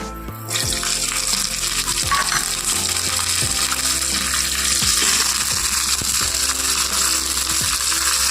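Hot oil tempering of dried red chilies, raw rice and curry leaves bursts into a loud, steady sizzle after a brief quiet start, with a few soft clinks of a pan or ladle and no talking.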